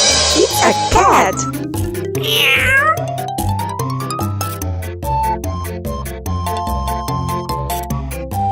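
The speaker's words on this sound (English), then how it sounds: "It's a cat!" A cat meows in a quiz about animal names for kids, heard over bright, busy background music with chimes and a rising slide tone; the meow stands out briefly in the opening seconds.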